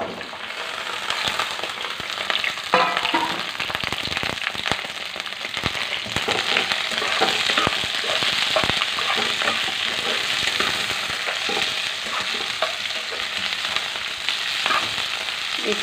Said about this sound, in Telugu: ఆయిల్ కాలింది బెండకాయలు వేసేసుకో